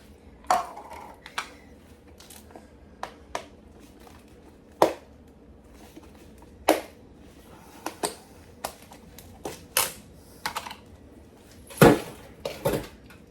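Frozen onions dropped into the bottom of a cooking pot, heard as a string of sharp clinks and light thuds at irregular intervals, fairly close, with quiet pauses between.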